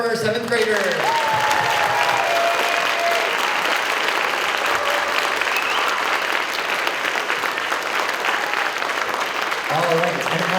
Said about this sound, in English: let's clap for our 7th graders.